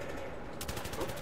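Gunfire in the video game Battlefield 3 played in co-op on PS3, a quiet lead-in that breaks into a rapid, evenly spaced burst of shots about halfway through, with faint talk in the background.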